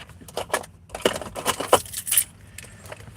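Keys jangling as someone searches for them at the door of a house, a string of light metallic clinks and rattles in uneven bursts, close and fairly soft, with no talk.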